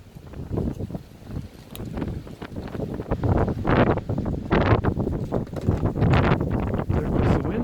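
Gusty wind blows outdoors during wood carving of a bunny caricature, rumbling and buffeting the microphone in uneven surges that build and stay strong, with no voices heard.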